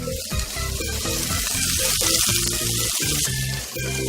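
Three halloumi slices sizzle in a hot pan, giving a steady, close hiss that carries through the whole clip over other tonal sounds in the background.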